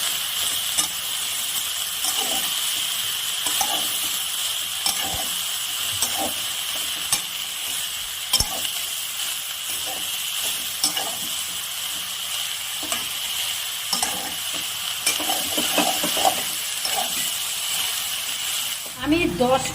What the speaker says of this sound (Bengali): এবার লাউয়ের সাথে মশলাটা ভালো করে মিশিয়ে নিব।